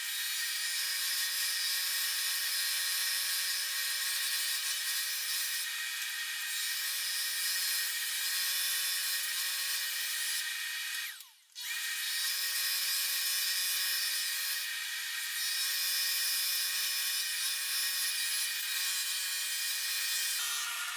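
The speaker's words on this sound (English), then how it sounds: "I'm ready to start cutting out my scales on my scroll saw" A scroll saw cuts laminated knife handle scales with a continuous, steady high-pitched buzzing whine. It stops briefly near the middle, then resumes just as evenly, close and loud with no voices.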